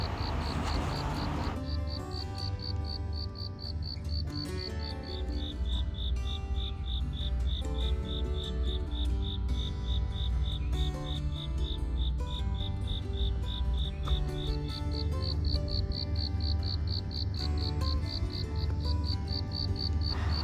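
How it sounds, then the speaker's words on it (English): Crickets chirping in the morning at Halong Bay, a continuous rapid pulsing trill with a few fainter bird calls woven through the steady outdoor hum. "Did y'all hear the beautiful sound of the crickets and the birds in the morning?"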